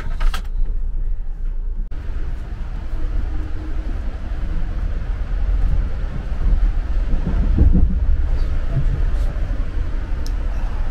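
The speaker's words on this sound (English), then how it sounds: "on a cold, snowy night, Cole and Katie boarded a train to Niagara Falls." Amtrak passenger train travelling from Chicago to Buffalo on a cold, snowy night, heard from inside as a continuous low rumble and rattle of the rails, with occasional clanks and thumps from the car.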